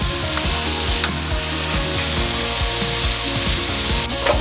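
Mackerel frying in a pan, a loud continuous sizzle and crackle with faint utensil clinks and scraping throughout, no voices.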